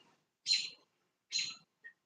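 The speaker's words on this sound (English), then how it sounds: "this bird's right here, man." Two bright, short bird chirps, evenly spaced about a second apart, then a tiny faint peep; close and clear against silence.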